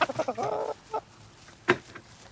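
A rooster clucks in a few short bursts, with a longer throaty call early on, fairly quiet with pauses between.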